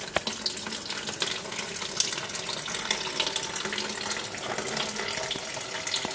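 Coolant gushing out of a Ford FG during a coolant change, a continuous splashing stream of liquid pouring and spattering at close range without pause.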